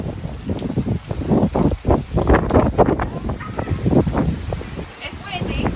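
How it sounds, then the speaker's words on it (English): Hurricane Sally brings gusty wind and rain to Fairhope, Alabama, with strong wind buffeting the microphone in uneven roaring surges and rain hissing underneath, close and loud, with people speaking briefly. "It's windy and rainy."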